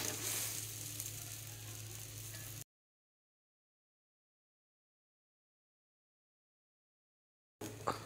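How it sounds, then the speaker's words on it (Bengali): Egg vegetable paratha frying in a pan makes a soft, steady sizzle up close. It cuts to silence, then returns briefly at the end. "এবার ভালো করে ভেজে নেব পুরোটা।"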